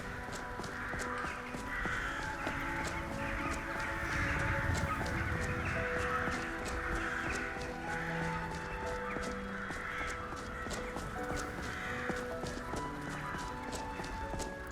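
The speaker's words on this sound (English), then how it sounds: "Lots of crows here." Crows caw repeatedly throughout an outdoor scene in the video game Skyrim. The calls are steady and moderately loud over a constant bed of game ambience and music, with faint hoofbeats.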